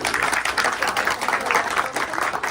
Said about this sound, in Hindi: जोरदार तालियां भैया आप सब